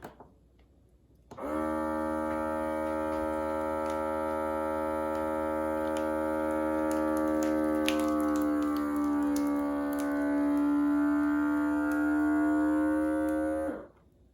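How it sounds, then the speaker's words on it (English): A steady mechanical hum from a small vacuum sealer pump, starting abruptly, running evenly for about twelve seconds, then cutting off. "Gonna hit vacuum and seal."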